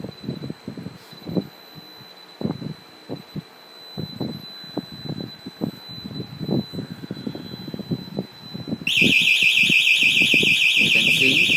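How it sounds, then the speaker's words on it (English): A home security alarm siren sounds loud and steady near the end, coming on after several seconds of muffled thumping and shuffling with a faint constant tone in the background. "You can see now the alarm was activated."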